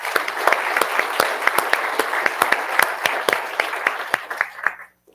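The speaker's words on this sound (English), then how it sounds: "so let's give her a round of applause." An audience applauds at a DHS awards ceremony marking the department's 20th anniversary in Atlanta, steady crowd clapping with sharp individual claps, lasting about five seconds before stopping abruptly.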